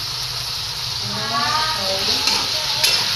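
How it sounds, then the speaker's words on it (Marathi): Large-cut chopped tomatoes steaming and sizzling in a pan while cooking down for a tangy tomato chutney; a continuous hiss rises slightly midway, with a voice faintly present underneath. "मुद्दामच टोमॅटो मोठा मोठा कापलाय, कारण ह्याला आपण परत मॅश करणार आहोत, त्याच्यामुळं आता मी ह्याला एक वाफ काढून घेते।"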